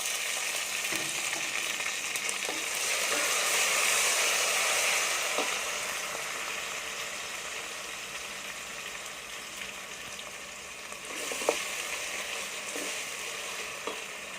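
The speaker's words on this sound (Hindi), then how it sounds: "अब इसके अंदर हम लहसुन अदरक का पेस्ट, हरी मिर्च का पेस्ट ऐड करेंगे।" Garlic-ginger paste and green chili paste fry steadily in a pan for a village-style chicken masala, a continuous broad sizzle with occasional stirring scrapes and clinks, close and fairly loud with no talking.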